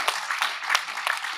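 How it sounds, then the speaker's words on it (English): An audience gives a round of applause at the close of a public panel event, dense clapping with brief peaks sustained across the short moment and no talk over it. "If everyone could give a huge round of applause, Councillor Rosemary, Sexton, Dolly, Theis,"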